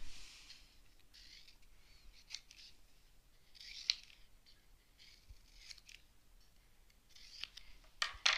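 Scissors cut out paper triangles in a quiet indoor craft setting, with several slow, crisp snips spaced a second or two apart. The snips are faint and close, with no talking.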